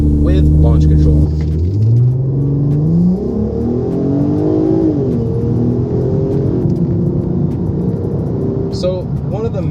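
Volkswagen R32 with all-wheel drive launching under launch control, a loud close engine roar rising in pitch through the gears into a sustained road rumble, with a person speaking briefly at the end.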